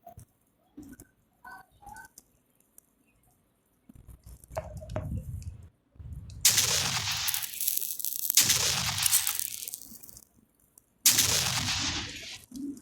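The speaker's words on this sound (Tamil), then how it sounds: "வெடிக்கிற சவுண்டு மட்டும் கேட்குது," Firecrackers burst outdoors in a string of harsh, crackling explosions: several sustained rapid-fire volleys of a few seconds each, fairly close, separated by brief gaps, with low rumbling and scattered thuds in between.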